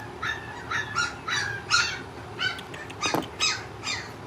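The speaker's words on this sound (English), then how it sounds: "Well, they just a barking and a howling everywhere." Two-week-old Chocolate Lab puppies yelp and squeal close by in quick, repeated high-pitched bursts, with no talking over them.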